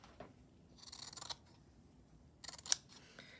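Scissors snip yarn during slow-stitching craft work, giving two short, quiet bursts of crisp cutting about a second apart in an otherwise near-silent room.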